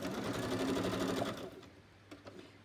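A sewing machine runs loudly with a steady, busy mechanical whir for about a second and a half, then stops, leaving quieter room noise and a couple of faint clicks.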